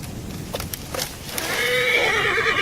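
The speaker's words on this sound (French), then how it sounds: "Ce cheval est blessé, père. Il faut l'aider." A wounded horse in a video game neighs loudly in a long whinny after a few hoof clops and thuds, close and clear with no talk over it.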